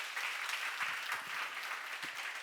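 Steady applause from an audience at a church seminar, a dense even patter of clapping lasting throughout with a few faint low voice murmurs underneath.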